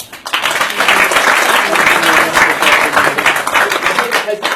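Audience applause at a mentalism parlour show, a dense, steady wash of many hands clapping that swells in quickly and holds at full strength for several seconds.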